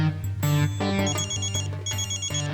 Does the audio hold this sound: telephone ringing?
yes